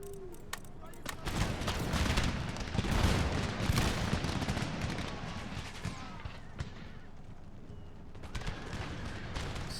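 Massed volleys of organ guns and musket fire roll across a large Empire: Total War battlefield, a dense, continuous crackle of overlapping shots with sharper bursts throughout, loud and sustained with a distant rumble beneath.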